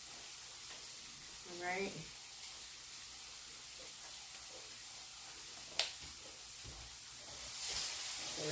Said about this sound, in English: Just let it sear up in the pan.